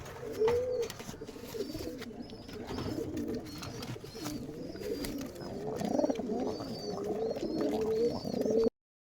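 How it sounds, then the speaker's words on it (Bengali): A pair of Jakpilong, or tiger, pigeons coo repeatedly and close by, their soft rolling calls overlapping in a steady run, with faint chirps in the background. "এই যে এক জোড়া জাকপিলং কবুতর আছে আমরা জাকপিলং বলি অনেকে টাইগার বলে"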